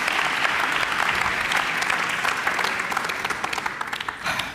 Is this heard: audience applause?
yes